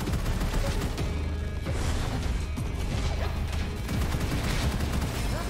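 Grenades and gunfire in the first-person shooter Gunfire Reborn, a dense, continuous barrage of shots, blasts and crashes, loud throughout with no clear break.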